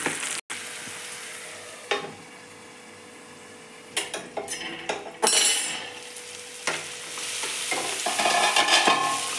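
Tomato frying with onion in a pan, a soft sizzle broken by sharp scraping stirs and utensil clatter in uneven bursts, the hiss swelling louder toward the end.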